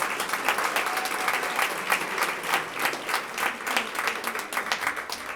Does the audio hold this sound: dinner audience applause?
yes